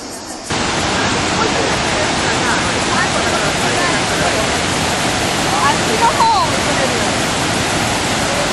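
Thunderous roar of the Devil's Throat at Iguazu Falls on the Argentina–Brazil border, a loud, dense, unbroken rush of water that swells in after a brief quieter start, with a voice faintly audible beneath it.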